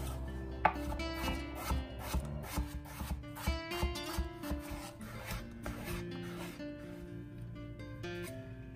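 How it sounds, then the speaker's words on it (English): A knife slices a washed, peeled medium-sized potato, with repeated crisp cuts and soft scraping strokes landing in an irregular rhythm, close and fairly quiet; no one talks. "Then slicing one medium-sized potato that's washed and peeled."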